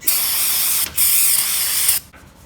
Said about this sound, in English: I'm just going to take a rag and some brake clean and get all the oily residue off.